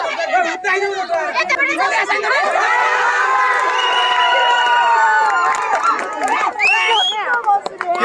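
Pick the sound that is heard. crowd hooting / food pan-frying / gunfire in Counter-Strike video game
crowd hooting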